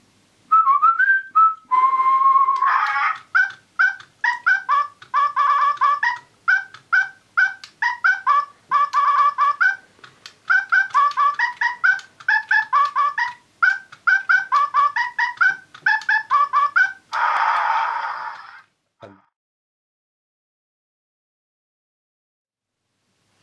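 A short whistled tune, then a Silverlit DigiDinos robotic toy dinosaur chirps a long, rhythmic electronic melody in repeating bursts, ending with a raspy roar before silence.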